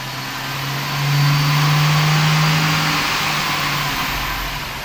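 A turbocharged Ford Falcon engine, just started after a naturally aspirated conversion, runs steadily close by with a firm low hum that rises slightly after the first second and then holds level with no talk.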